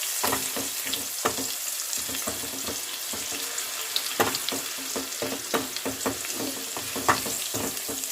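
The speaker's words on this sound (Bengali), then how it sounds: "এগুলো একটু ভেজে নেওয়ার পর এবার এর মধ্যে দিয়ে দিচ্ছি একটা পেঁয়াজ বাটা" Onion paste fries in a pan with a steady sizzle, broken by repeated scraping stirs of a spatula spread across the whole stretch, with no talking.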